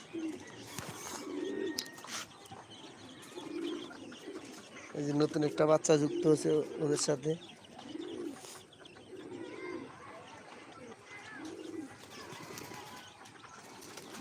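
Pigeons let out in the afternoon coo repeatedly, with occasional wing flaps and chirps, while someone talks close by over the flock.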